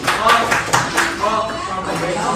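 A small group of students in an Indonesian classroom gives a round of group clapping, with irregular claps over lively background voices.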